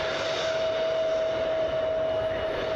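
An inbound airliner approaches Cleveland Hopkins International Airport, its engines a steady, continuous broadband roar with a sustained whine running through it, holding at an even level throughout without any talk.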